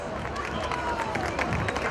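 A crowd at a Fasnacht carnival parade in Ruswil fills the air with a continuous wash of clapping and general hubbub, steady and fairly loud throughout.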